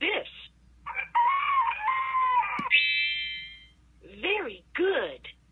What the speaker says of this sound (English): You found a rooster.